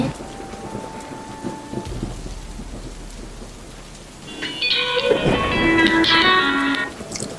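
Steady rain falls while thunder rumbles low and distant, building into a louder, heavier downpour with crackling rumbles.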